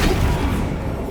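A Flipendo spell cast in the Hogwarts Legacy video game strikes with a deep, thudding boom and a rumbling impact, loud and sustained for about a second, with no voices.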